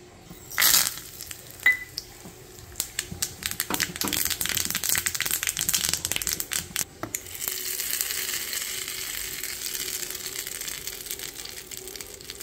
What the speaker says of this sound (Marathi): तिला आता फोडणी देते फक्त।